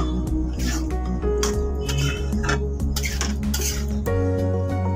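Chicken and onions are stirred in a pan for chicken dopiaza, with a utensil clinking and scraping against the metal repeatedly over a steady sizzle of cooking.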